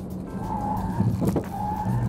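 A Hyundai Tucson PHEV 2023 runs a moose-test avoidance manoeuvre, its engine humming steadily with a brief surge of tyre and road noise midway as the car swerves.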